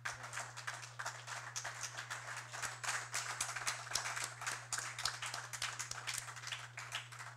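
An audience claps for a presentation at a philosophy café gathering in Haiti, a dense, steady patter of many hands lasting the whole stretch at moderate volume, over a constant low electrical hum.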